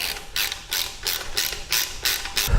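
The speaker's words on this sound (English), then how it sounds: "And now we'll go ahead and put this last bolt in and tighten it down" A ratchet wrench tightens the last bolt on a Harley Road Glide touring exhaust hanger, a steady run of about seven loud close clicking bursts in even rhythm, with no talk.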